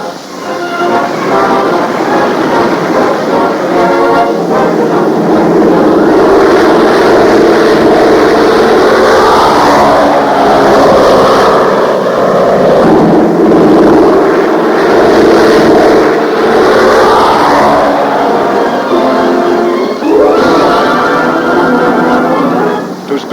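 A dense, steady roar of many troop-carrying transport planes in flight fills the whole stretch, loud and continuous with little variation, with no clear speech over it.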